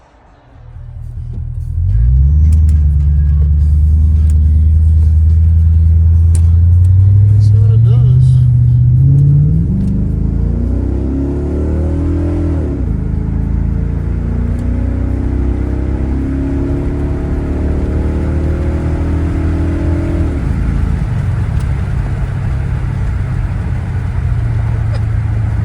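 A V8 car with a GM LT1 engine and a newly installed intake pulls away hard, a deep rumbling engine note rising through a long upshifting run and then settling into a steady cruise drone, loud and close from inside the cabin.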